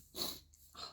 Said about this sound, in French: je commence à renifler en plus